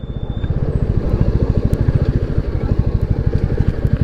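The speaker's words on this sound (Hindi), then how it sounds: "बाइक का थंब कितना सही है भाई" A Royal Enfield Classic 350 running on E20 petrol after its third service, its engine thumping in a steady, even pulse at close range, loud and unbroken with no voices.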